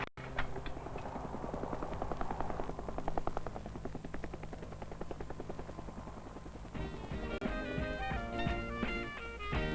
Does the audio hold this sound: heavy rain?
no